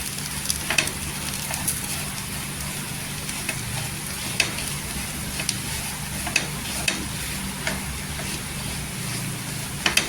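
A chilli curry with garlic stir-fries in a pan, holding a steady close sizzle with scattered light clicks of a spoon or spatula scraping through it, and no voices.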